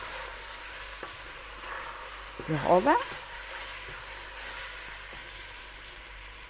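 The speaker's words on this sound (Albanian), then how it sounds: "E kthej mishin e skuq me miellin" Veal pieces frying with flour in a pan for a stew, a brief burst of sizzling and crackle rising in the middle, then fading back under low kitchen background and faint stirring.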